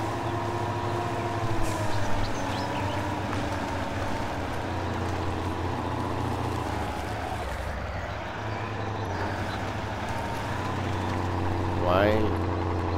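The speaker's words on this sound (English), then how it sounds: "Trucks just sound the same like they're doing SnowRunner" A truck engine in the MudRunner off-road game, a steady low rumbling drone near at hand with a brief rising whine toward the end.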